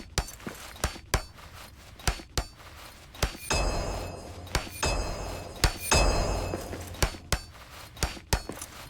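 Repeated metallic hammer strikes on a roof in the video game Return to Moria, Durin's Folk dwarf setting, ringing clinks in an uneven rhythm over about nine seconds with a steady low rumble beneath.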